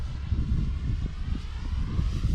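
An RC trainer model airplane flies at full throttle, its electric motor and propeller giving a steady, moderately loud buzzing drone that swells slightly as it passes, with no voices.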